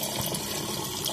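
Cold drinking water runs steadily from a tap beside a mosque in a village shrine courtyard, a close, continuous rushing splash with no talking.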